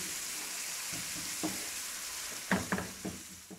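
Spiced masala roasting in ghee in a pan for mashed potato gravy, a soft steady sizzle with a few sharp spoon scrapes and stirring knocks toward the end, close and fairly quiet.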